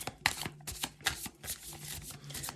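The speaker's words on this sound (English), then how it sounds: "Let me give this a quick little shuffle" Thoth tarot deck being shuffled by hand, a quick series of crisp riffling card bursts, close and quiet, with a faint low hum underneath.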